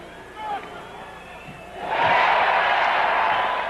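Basketball crowd at a Clippers home game swells into loud, sustained cheering and applause for a free throw by Spurs center David Robinson, the roar rising sharply midway and holding steady to the end.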